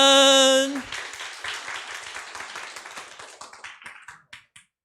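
Audience applause at a church youth fellowship testimony meeting, a dense crowd clapping that fades out over several seconds after a brief tone at the start.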